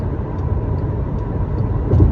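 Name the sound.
passing road traffic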